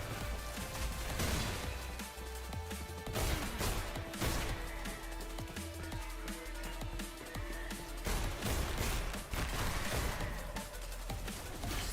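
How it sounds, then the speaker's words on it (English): Grenades explode around the player in the sci-fi shooter Selaco, with heavy booming bursts and crashing debris over a dense, loud run of gunfire and combat noise. "Caught between two grenades."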